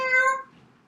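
A person imitates a cat's meow: one clear, harmonic, falling meow, loud and close, fading out after about half a second.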